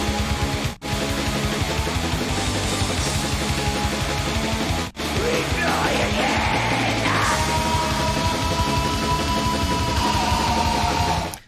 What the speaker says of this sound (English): Very boilerplate sort of black metal sounds like this.